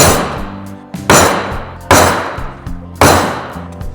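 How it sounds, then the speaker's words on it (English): A hammer drives a center punch into the rivets of a clutch basket from a 2025 Harley-Davidson Road Glide primary, striking four sharp metallic blows about a second apart, each ringing briefly. "now that we got the center punch kind of knocked into each of those rivets"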